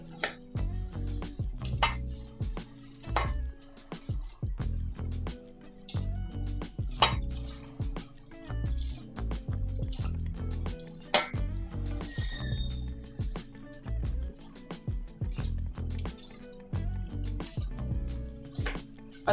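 Flour being mixed by hand with oil, salt, ajwain and kasuri methi for masala mathri dough, with repeated soft squishing and patting sounds in an irregular rhythm and occasional clinks of a bowl.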